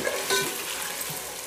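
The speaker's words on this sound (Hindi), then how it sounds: "हम अच्छे से भूनेंगे तेल में, जिससे कि इन सब्जियों का जो है वो कच्चापन चला जाए" Chopped vegetables sizzling in hot oil in a pan as they are stirred for vegetable pulao, a steady close hiss with soft scraping, no talking.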